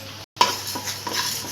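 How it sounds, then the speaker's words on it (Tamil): Coriander seeds dry-roasting in a pan while being stirred, with a few scraping strokes and a faint crackling sizzle, close and moderately quiet. "நல்லா ஒரு நிமிஷத்துக்கு நல்லா அது வறுபட்டு வரட்டும்"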